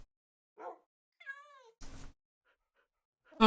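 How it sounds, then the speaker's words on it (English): Cats meow in a Minecraft world, several short electronic mews spaced apart against near silence, with one drawn-out wavering call in the middle, fairly quiet and close. "And these are all my kitty cats."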